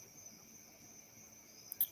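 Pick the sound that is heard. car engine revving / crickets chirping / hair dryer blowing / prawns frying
crickets chirping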